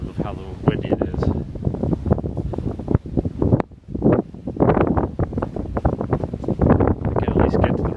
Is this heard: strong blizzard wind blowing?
yes